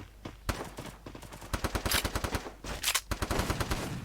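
Video-game gunfire crackling in rapid automatic bursts, loud and close, with short pauses between volleys and a near-continuous stream of shots in the second half.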